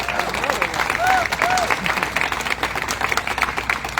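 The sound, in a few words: audience applause at Golden Spike ceremony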